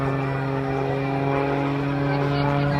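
MX-2 aerobatic plane performing at an air show, a steady droning propeller engine tone with strong harmonics, sustained and fairly loud throughout.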